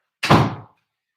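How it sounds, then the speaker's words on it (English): A door being shut on a windy day gives a single close, loud thud that fades within half a second, with nothing else around it. "And shut the door."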